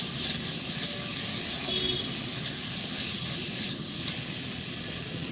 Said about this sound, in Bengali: আবারও ভালো করে আলুর সঙ্গে মশলাগুলো কষিয়ে নিচ্ছি।